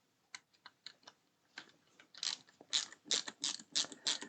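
Small screws being driven by hand into the screw holes of a 1989 Batmobile scale model, giving faint, close ratchet-like clicking, sparse at first and then quicker and steadier.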